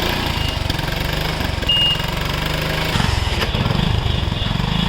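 A Honda CD 80 motorcycle engine idles right after starting, with a close, steady, rhythmic low putter that holds even throughout.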